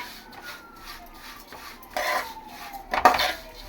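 Roasted vermicelli scraped and tipped from one pan into a pot of simmering sago for payasam, with clinking of metal utensils against pans and a couple of louder scrapes near the end, no talking.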